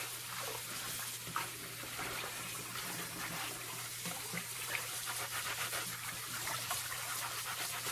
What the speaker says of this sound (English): Just scrub them together. Go in and out the water